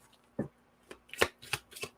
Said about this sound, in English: I gotta shuffle a little bit.